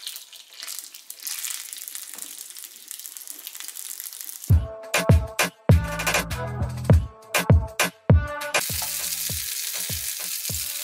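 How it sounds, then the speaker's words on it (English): Jamaican flour dumplings sizzle steadily in hot oil, broken midway by a run of sharp clattering knocks and splashes as they go into the pan, then a louder, brighter sizzle resumes. "I'm just going to be putting the dumplings in the oil and we'll fry them on both sides."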